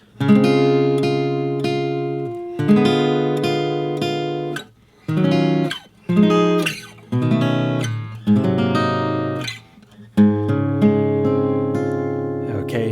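Clean guitar plays the closing passage of a song in strummed chords and arpeggios, with brief pauses between phrases before a final sustained chord rings out.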